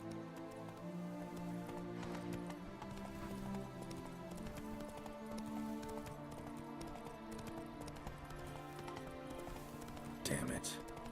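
Geralt's horse Roach gallops in The Witcher 3, its steady clip-clop of hooves running continuously beneath game music and ambience, with a brief louder burst near the end.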